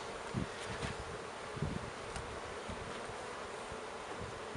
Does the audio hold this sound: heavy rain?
no